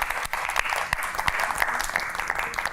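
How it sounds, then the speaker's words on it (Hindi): A studio audience on a television show claps for itself, a brief burst of lively, uneven applause with some sharp individual claps standing out. "पहले तो आप सब लोग अपने लिए तालियां बजा लें।"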